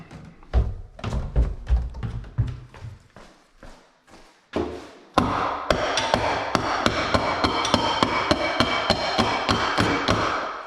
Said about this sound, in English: Hammer. There's hammer. Small piece of wood.